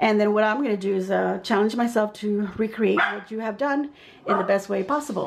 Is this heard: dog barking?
yes